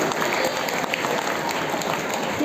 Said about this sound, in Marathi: आदित्यसाठी जोरदार टाळ्या झाल्या पाहिजे